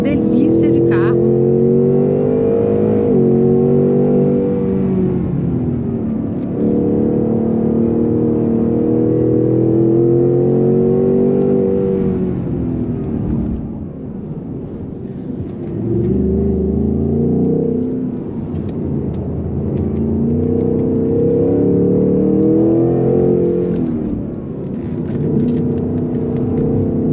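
A Ford Mustang Mach 1 accelerates hard around a coned track, its engine climbing through repeated loud revving sweeps and easing off between bursts, close and dominant throughout.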